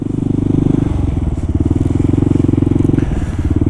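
A Kawasaki KLR single-cylinder motorcycle rides through city traffic from Harlem to Grand Army Plaza, its engine thumping in a loud, steady, rapid pulse close to the rider with a slight shift in pitch partway through.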